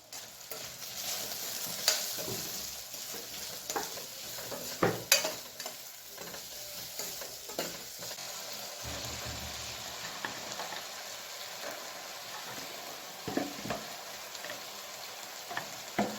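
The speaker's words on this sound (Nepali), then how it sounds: "आलु फ्राई गर्दैछु।" Potatoes fry in a pan at home with garlic-ginger paste and spices, a steady broadband sizzle with occasional sharp scrapes and stirring clatters, close and moderately quiet, no voices.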